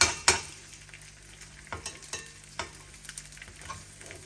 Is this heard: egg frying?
yes